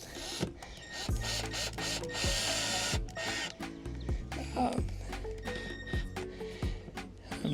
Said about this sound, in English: Now, if you notice, I'm not drilling very far down.